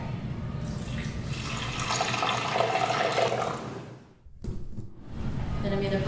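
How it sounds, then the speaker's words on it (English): Hot water is poured into a bone broth drink before blending, a steady splashing wash that runs for several seconds, breaks off briefly near the end, then resumes close and fairly loud. "A little bit of hot water."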